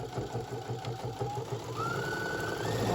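A sewing machine back stitches at the end of a seam on a cosmetic pouch, a fast steady mechanical rattle running close and loud for the whole stretch.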